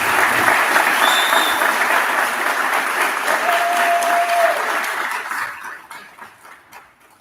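An audience claps for a graduate at a university nursing graduation ceremony, a dense, steady round of applause from many hands that fades out over the last couple of seconds.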